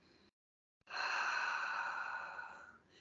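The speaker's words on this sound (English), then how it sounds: "But all you're doing is breathing." One long, slow exhale from a single person comes after a brief silence. It is soft and close, with no other sound around it.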